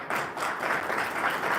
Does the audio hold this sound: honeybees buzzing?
no